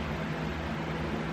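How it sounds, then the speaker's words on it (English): An electric fan running in a room produces a faint, steady broadband hum and whoosh that stays constant throughout, with no other sounds. "Sorry about the noise in the back, it's my fan."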